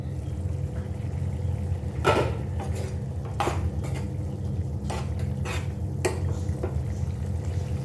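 A lid is lifted off a cooking pot of cauliflower butter masala, bringing several sharp metallic clanks and knocks over a low, steady background hum.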